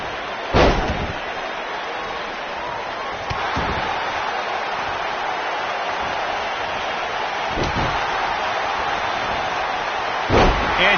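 Thudding body slams onto the ring mat in the WWE 2K19 wrestling game, several sharp heavy impacts spaced over a steady crowd roar.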